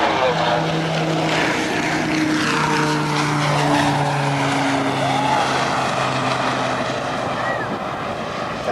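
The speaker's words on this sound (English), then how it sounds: "And now as Frank Ryder moves toward the runway" A Cyclone aerobatic propeller plane taxis toward the runway at a Rhode Island airshow in 2005, its engine droning loud and steady throughout, with tonal hum and some wind or crowd noise mixed in, while an announcer talks over the PA.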